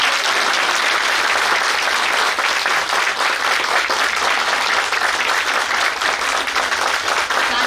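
A large audience at a school annual function applauds a children's performance, dense, steady clapping sustained loudly throughout with crowd murmur beneath.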